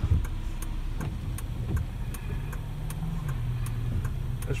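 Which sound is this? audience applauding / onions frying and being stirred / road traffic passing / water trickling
road traffic passing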